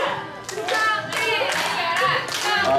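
An audience at a Chuseok holiday festival event in a village claps in a brisk, close burst of many hands, with a few voices mixed into the clapping.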